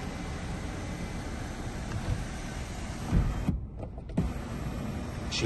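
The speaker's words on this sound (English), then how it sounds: "Electric sunroof with this car." An electric glass sunroof motor on a Mazda CX-5 whirs steadily, close and moderately loud, with a couple of brief clunks and a pause as the mechanism moves.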